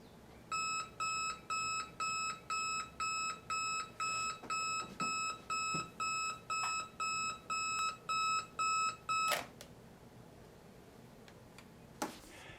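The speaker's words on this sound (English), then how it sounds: "As my alarm clock sings at its regular time of 4:45" An alarm clock beeps in rapid, evenly spaced bursts of high tones, repeating for several seconds before falling silent, followed by a few faint clicks.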